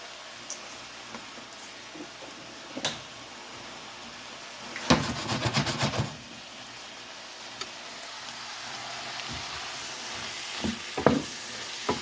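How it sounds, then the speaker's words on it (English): Smelt fish sauté in hot extra virgin olive oil with crushed red pepper, giving a low steady frying hiss broken by scattered utensil taps and one longer burst of scraping and rattling in the pan. "This is how to cook a smelt, sauté a smelt."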